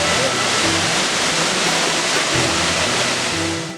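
Bhagirathi river water rushing continuously near a rest house, a steady dense roar that stays loud and unbroken throughout with no pauses.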